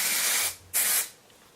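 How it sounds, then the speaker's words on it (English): Texturizing hair spray hisses from an aerosol can onto hair in two close, loud bursts, the second shorter than the first, with no voices. "So all I do is just kind of spray it from here down."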